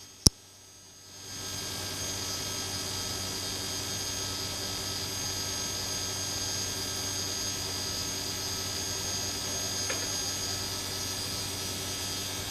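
A DC motor running off a recharged battery starts after a brief click and settles into a steady, even whirring hum that continues unchanged at moderate loudness.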